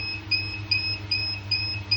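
The alarm buzzer on a cold room temperature control panel beeps steadily in rapid pulses of about two per second. It sounds thin and electronic and plays over a constant low machine hum.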